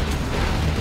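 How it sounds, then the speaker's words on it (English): Nuclear missile launch in the real-time strategy game C&C Generals Zero Hour, a dense roaring rumble of rocket thrust and blast noise, loud and continuous over a short moment. "We have launched our nuclear missile."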